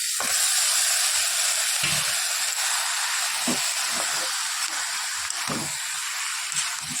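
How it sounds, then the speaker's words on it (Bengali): Taro leaves are tipped into a hot pan after frying, setting off a loud, hissing steam-like sizzle that stays strong throughout, with scattered knocks and scrapes from the pan and spatula close by. "হয়ে গেছে ভাজা, এবার কচুর শাকটা দিয়ে দিলাম।"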